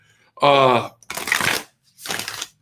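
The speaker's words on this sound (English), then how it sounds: "I am shuffling up like crazy here." Tarot cards shuffled by hand in two quick, crisp riffling bursts, following a brief voiced sound at the start.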